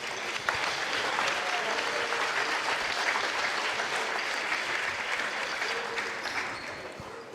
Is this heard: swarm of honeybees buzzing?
no